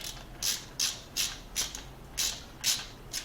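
Socket ratchet tightening the intake manifold bracket bolts on a Screaming Eagle engine, eight evenly spaced ratcheting clicks close by, each a brief burst with quiet gaps between, no talking.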